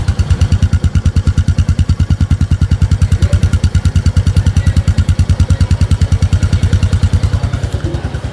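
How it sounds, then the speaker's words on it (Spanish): A Bajaj Boxer CT 125 motorcycle idles steadily after an electric start, its exhaust putting out a close, loud, even low-pitched thumping with a fast regular pulse and no voices over it. "A ver, el escape, en modo ralenti."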